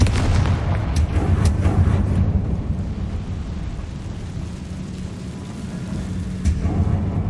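A fire spell explodes in Hogwarts Legacy, a deep rumbling boom with crackling bursts that rolls on and fades, plus a couple of sharp impacts, loud and close with no talking.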